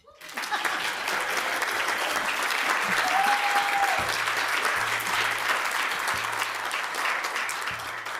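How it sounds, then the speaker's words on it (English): A theatre audience applauds steadily and loudly for about eight seconds after grant-receiving companies are announced, dense clapping filling the room while faint voices and brief tones sit underneath. "Please applaud."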